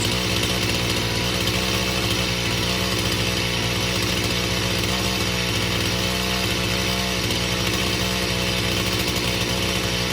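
A chainsaw engine runs continuously at high, loud revs while the low-speed carburetor screw is turned clockwise toward the lean drop-off point, with a close, steady, buzzing drone throughout.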